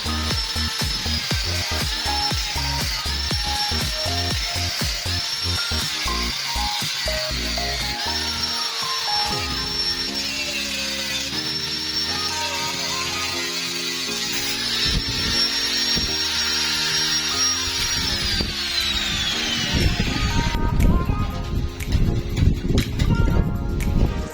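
A power drill bores holes into an old amplifier case, whining in repeated bursts that rise and fall, with clattering handling noise between runs and a louder, rougher stretch near the end.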